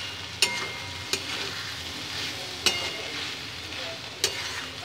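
Brahmi greens stir-fry in a pan with a continuous sizzle, broken by four sharp, evenly spaced spatula knocks against the pan.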